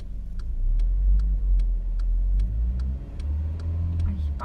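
A car engine idling and revving as a learner driver presses the gas, a loud low rumble that rises and swells near the start and again toward the end, with a steady ticking over it and no talk.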